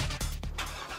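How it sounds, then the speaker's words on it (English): A Chevrolet Corvette sports car engine growls at close range in a brief deep rumble with two quick dips like blips of the throttle, loud and alone. "You hear that? That's the sound of America's only sports car."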